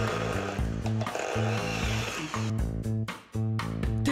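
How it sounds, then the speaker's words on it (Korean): An electric drill mounted on a prosthetic arm whirs in repeated stuttering bursts with pauses between, close and fairly loud, its buzzing pitch wavering as it runs and stops, with no talk. "전동 드릴이 달린 의수 같은데요."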